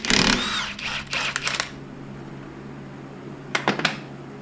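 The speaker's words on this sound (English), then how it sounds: "we're about to take the axle nut off" Socket wrench with a 1-1/16 socket working an axle nut off a Polaris 850 Sportsman ATV, sharp metallic clanks and ratchet clicks in two short bursts separated by near silence.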